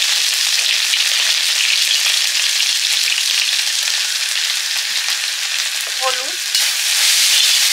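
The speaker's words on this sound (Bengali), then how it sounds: "সরষের তেল, চপের আলুটা কষবো।" Boiled potatoes being sautéed in mustard oil with ginger, garlic and green chilli for potato chop, giving a loud, continuous sizzle that fills the whole stretch. A brief word is spoken partway through.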